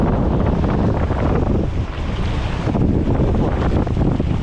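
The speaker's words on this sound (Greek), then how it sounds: "Έρχονται και τα κύματα." Sea waves roll in against a rocky shoreline in a continuous loud wash, with strong wind buffeting the microphone throughout.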